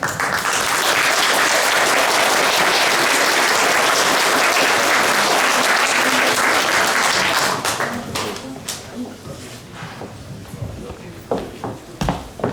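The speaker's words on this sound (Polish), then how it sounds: "bardzo prosimy o wsparcie, o brawa" Sustained audience applause at a patriotic congress event in Braniewo, loud and dense for about seven seconds, then thinning into scattered individual claps and fading.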